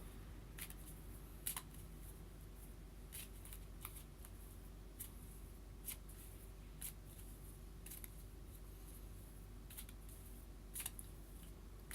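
Large oversized tarot cards are shuffled by hand, giving soft, scattered riffles and sharp papery snaps at irregular moments over a low steady hum, fairly quiet and close.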